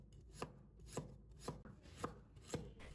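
A knife cuts a piece of fresh ginger into thin slices on a board, each cut landing as a crisp, close tap at an even pace of about two per second with no talk.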